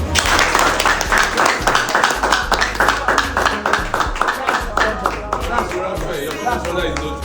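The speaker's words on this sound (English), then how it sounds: "Can we clap for you?" Audience clapping at a morning business meeting fills the room: dense, continuous applause close by, with voices and crowd noise mixed underneath throughout.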